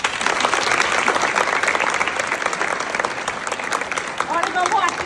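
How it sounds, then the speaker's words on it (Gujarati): School students clap at an election and investiture ceremony, steady dense applause from a crowd sustained throughout, fairly close and even in loudness. "આટલી બધી નથી ગમતી તો તાળી જ ના પાડી."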